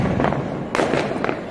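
Diwali firecrackers burst in quick succession nearby, loud sharp cracks and thuds following one another with little pause.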